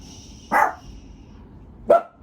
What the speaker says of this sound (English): You're barking at nothing.